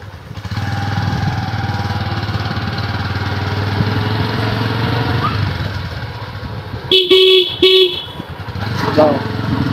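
A motorcycle horn sounds in two short, loud toots over the steady drone of the bike's engine while riding along a winding road, with talk heard before.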